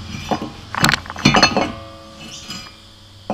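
A brake rotor clanks and knocks onto a car hub in a few sharp metallic hits, close by, followed by a faint ringing tail and quiet.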